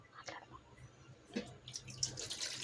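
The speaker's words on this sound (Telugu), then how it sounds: "ఇందులోనే వాటర్ కూడా పోసుకుంటానండి." Water poured into a pan of dried fish and okra curry in a home kitchen, a faint, short splashing trickle with soft clinks, close by and otherwise quiet.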